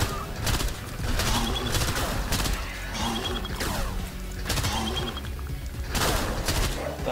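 An upgraded gun in the video game STRAFE fires in repeated loud bursts, dense rapid shots recurring every second or so amid crashing impacts and game noise.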